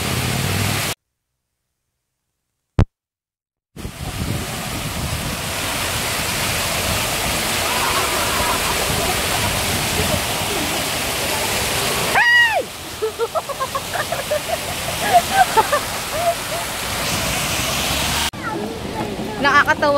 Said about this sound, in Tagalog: Kasi yung fountain, pag papasok ka sa loob, bumababa yung tubig.